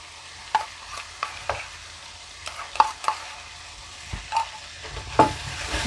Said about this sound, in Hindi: इसको भी अच्छे से भूनेंगे